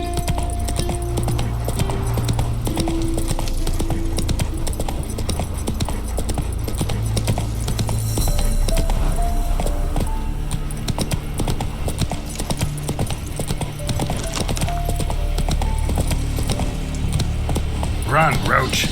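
Roach, the horse in The Witcher 3, gallops with a loud, steady rapid clip-clop of hooves throughout, layered over game music and ambience.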